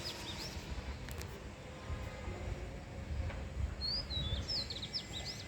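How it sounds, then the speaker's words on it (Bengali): A small bird perched near hibiscus flowers gives a few brief high chirps from a distance, faint over a low rumbling background. "ভিন্ন সুরে ডাকছে দেখতে পাচ্ছেন"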